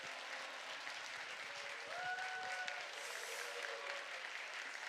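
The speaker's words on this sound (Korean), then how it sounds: "목사님 나오실 때 할렐루야로 하나님 앞에 영광 돌리고 박수로 모시겠습니다." A church congregation at a youth prayer service claps steadily as a pastor comes forward, a dense, even wash of applause from a large room that holds at a constant level for several seconds.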